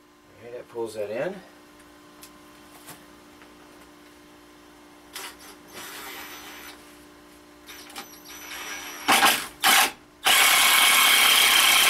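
A power drill drives screws into a wooden potting bench, with a couple of short whirring bursts near the end and a sustained loud run to finish. Earlier, brief speech and scattered handling noises.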